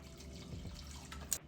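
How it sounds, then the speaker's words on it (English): Dry cooking wine (vino seco) pouring into a pot of chicken fricassee with tomato sauce, a soft, steady liquid trickle for about a second and a half, close and fairly quiet, ending with a brief splash. "I'm also gonna add in some cooking wine,"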